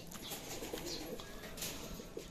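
Racing pigeons in a loft, among them a black check white-flight bird, cooing low and faintly with brief wing flaps and soft chirps over a steady noisy background.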